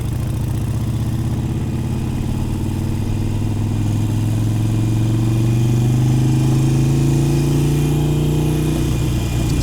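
Harley-Davidson Iron 883 motorcycle engine running steadily and close, a loud low rumbling drone whose pitch climbs gradually as it revs, with no talk over it.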